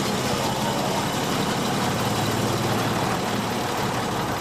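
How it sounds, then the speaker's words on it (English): An early British First World War tank engine with overhead valves and crosshead pistons idles in a steady, even rumble, close and constant, with no voices. "Sounds absolutely gorgeous, this engine."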